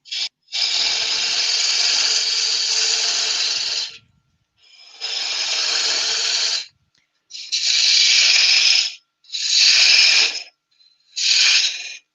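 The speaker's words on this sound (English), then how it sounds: "Spin the roughing gouge. That'll get rid of it quicker." A roughing gouge cuts spinning wood on a lathe in five long bursts of bright hissing, scraping noise, each a second or more, close and loud, with short silent gaps between them.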